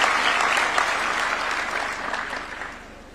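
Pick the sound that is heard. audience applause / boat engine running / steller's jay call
audience applause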